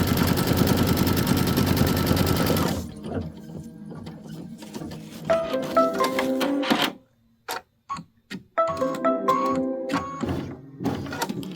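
A sewing machine runs at 800 stitches per minute, stitching fabric for a bench pillow: a dense steady mechanical whir at first, then lighter stop-start bursts of stitching broken by short pauses.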